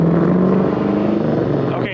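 A supercharged Nissan GT-R pulling away, a loud steady engine roar that fades slightly as it moves off, with no break in the sound.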